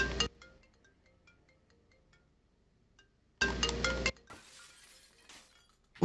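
Glass shatters loudly in a video game in a sudden crash with tinkling shards, following a quiet stretch of faint clinks, then a second burst of breaking glass.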